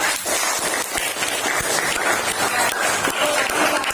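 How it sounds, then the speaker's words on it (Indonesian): A group in a national-insight learning session claps together, a rough, busy patter of hands that stays fairly even and moderately loud from start to finish. "tepuk tangan semua"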